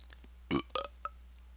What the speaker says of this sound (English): That's my forced burp.